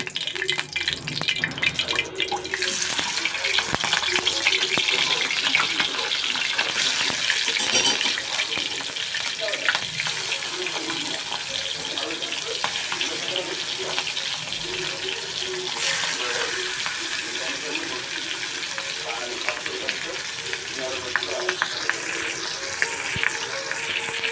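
Food fries in hot oil with a steady sizzle, broken by repeated stirring and scraping clatter throughout, without talk.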